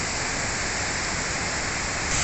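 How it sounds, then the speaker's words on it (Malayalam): Kozhippara main waterfall at Kakkadampoyil, a dense, steady roar of falling water filling the whole clip at a constant level. "ഇതാണ് കോഴിപ്പാറ വെള്ളച്ചാട്ടത്തിൻ്റെ മെയിൻ വെള്ളച്ചാട്ടം"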